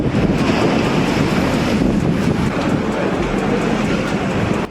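Storm wind roars against the microphone over heavy ocean surf off Dauphin Island, a dense, steady wash of noise that holds for several seconds with no voices.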